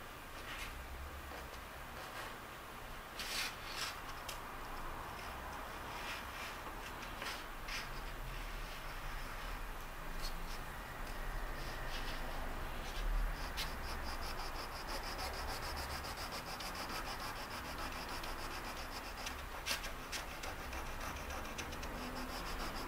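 Pencil or tool retracing a design line on paper for a sandpaper transfer art technique, a steady soft scratching and rubbing that continues evenly throughout at close range, with no talking.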